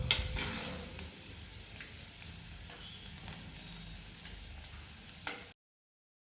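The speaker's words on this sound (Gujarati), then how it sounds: "હવે આપણે આમ અડધી ચમચી જેટલું જીરું નાખીશું" Half a spoon of cumin seeds sizzles in hot oil, a continuous close frying hiss with scattered light pops and clicks before the sound cuts off abruptly.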